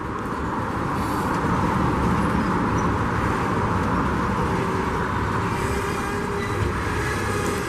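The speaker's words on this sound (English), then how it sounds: "he's putting on the brakes" A freight train with grain cars rolls past at a railroad diamond, a steady broad rumble and hiss holding loud and even throughout, with faint tonal whine near the end as the brakes engage.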